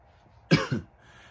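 A single short, sharp cough, close and isolated against a quiet background.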